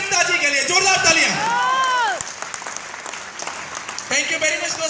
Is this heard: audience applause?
yes